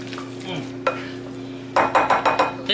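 Ground turkey being mixed with barbecue sauce for stuffed burgers, giving a few soft squelching strokes early on, then a burst of louder, wet, rhythmic mashing and stirring near the end, close and alone.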